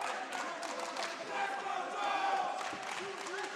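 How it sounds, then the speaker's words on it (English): A crowd at a kickboxing fight in Pretoria roars and screams continuously, a dense wash of many voices that swells and holds without pause. "the crowd here in Pretoria screaming out for Joel Smit"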